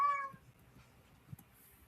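A single short cat meow, fairly close, followed by a quiet room with faint soft thumps.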